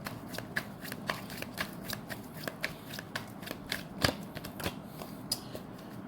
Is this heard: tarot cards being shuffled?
yes